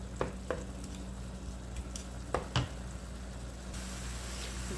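Chicken with spices and chili sizzles steadily in a pan, a soft continuous frying hiss broken by a few light knocks and stirring taps.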